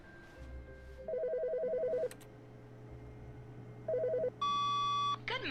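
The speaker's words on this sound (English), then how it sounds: "Phone's ringing. It's ringing." A telephone rings in the video game The Stanley Parable, two bursts of warbling electronic ring separated by a pause, then a higher sustained tone and a brief chirp, all close and clear with no talking.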